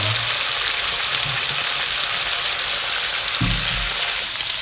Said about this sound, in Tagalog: pwede rin tayong magluto ng ating bacon na onions natin. Ilagay lang natin sa isang pan